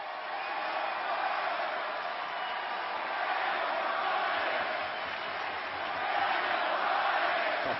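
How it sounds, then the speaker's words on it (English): A large, lively wrestling arena crowd in Chicago of nearly 15,000 people keeps up a continuous roar of cheering, broad and distant, with a commentator talking over it. "A festive crowd here tonight in Chicago."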